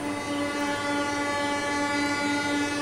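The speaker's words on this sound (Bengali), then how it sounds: "আবার ট্রেন আসছে, সত্যি কি আওয়াজ" A train passes close by with a loud, steady rumble and droning tonal hum, continuous throughout with no talking.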